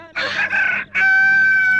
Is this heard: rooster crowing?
yes